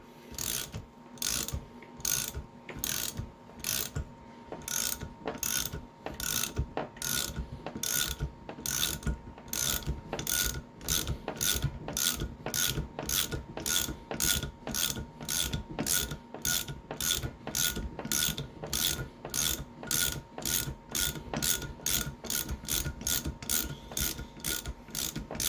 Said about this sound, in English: Now all we're going to do is release the tension on this main screw or bolt